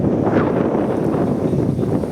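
Steady wind buffets the microphone with a continuous low rumble and gusty rustling at the coast among waves, no voices present.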